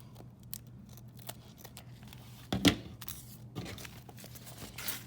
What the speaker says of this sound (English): then I take my scissors and I'm gonna cut the rest of the tape off.